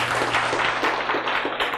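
An audience claps at a lecture, a steady wash of many hands, moderately loud and continuous, with no voices over it.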